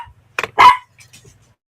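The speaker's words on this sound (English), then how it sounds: "I think I got the bark under control" A dog named Floss, out moon gazing under a big bright moon, gives two close, loud barks in quick succession, followed by a few faint, soft huffs.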